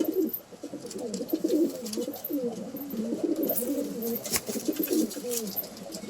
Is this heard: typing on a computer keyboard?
no